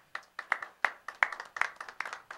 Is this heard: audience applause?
yes